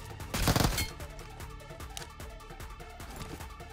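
A bot firing a gun at the player in the Metro Royale shooter game, with a fairly faint burst of rapid shots followed by scattered lighter gunfire crackles.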